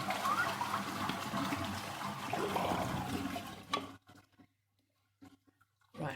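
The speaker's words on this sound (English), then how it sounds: "Probably need to drain it all the way." Water drains from a toilet tank with a faulty float switch, starting as a rushing gurgle that stops abruptly into near-silence, followed by a few faint trickles and clunks.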